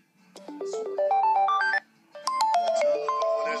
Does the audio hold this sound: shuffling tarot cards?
no